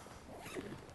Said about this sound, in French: Fermeture éclair aussi de très bonne qualité.